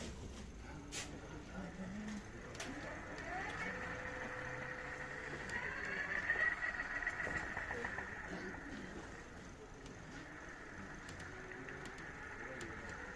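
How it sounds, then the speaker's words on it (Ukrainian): A Mxus XF15F 500W electric hub motor spins on test after repair, a faint mechanical whir and hum with light clicks running steadily in a quiet workshop. "Закінчили цей двигун, точніше ремонт цього двигуна. Перевіряємо його."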